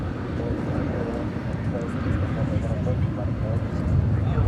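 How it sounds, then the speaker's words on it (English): A Turkish Airlines Boeing 787-9 Dreamliner bound for Istanbul at DFW airport, its jet engines giving a steady broadband roar with low rumble that builds slightly louder toward the end. "It's Dreamliner -9 headed back to Istanbul."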